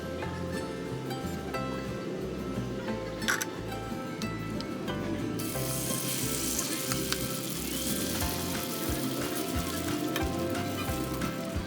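Egg and vegetable omelette mixture frying in a hot pan, a steady close sizzle that grows louder and brighter partway through, with a faint clink near the start and no talking.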